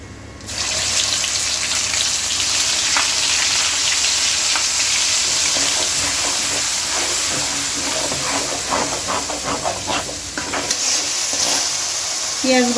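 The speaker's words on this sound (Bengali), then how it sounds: "পেঁয়াজ বাটা সুন্দর করে তেলের মধ্যে ভেজে নিয়েছি।" Onion paste frying in hot oil with panch phoron spices in a pan for a Bengali chicken curry: a loud, steady sizzle that holds for the whole stretch, with faint stirring scrapes rising near the end.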